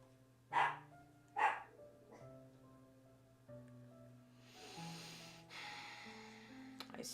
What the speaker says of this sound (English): the most noise that's been made in this house is from a dog